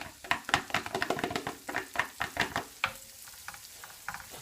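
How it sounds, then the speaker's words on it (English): Onions hit melted butter in a pan, giving crackling sizzle with a run of quick stirring and spoon scrapes, close and fairly quiet, the rhythmic bursts easing toward the end. "What we're going to do now is get our onions into here."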